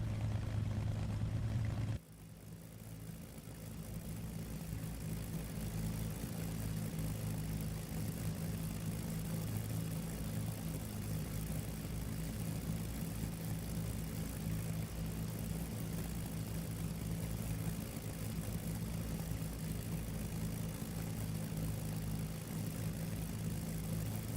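A P-51 piston aircraft engine warms up at idle in DCS World, a steady low droning hum after a brief louder start, continuous and alone with no talk.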